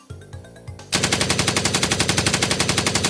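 Sustained machine-gun fire in a rapid, even rhythm of loud bursts after a brief quieter opening, used against emus in an open setting.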